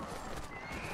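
Armored horses in a video game whinny and neigh at close range, with hoof clip-clop and steady game ambience running underneath for about a second.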